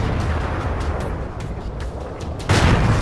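Heavy booming cannon fire in World of Tanks amid battle rumble, a low sustained roar with a loud blast near the end, no talk.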